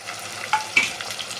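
Spice paste for a red goat-meat curry hits a hot wok over a full gas flame, giving a soft sizzle with a couple of sharp crackling bursts and light stirring scrapes.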